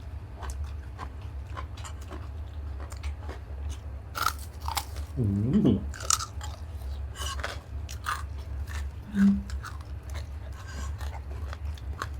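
Close, crisp crunching and biting sounds as crispy pork is chewed, with scattered clicks and no talking.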